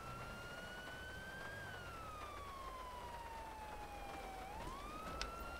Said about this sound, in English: Actually, turn off the siren.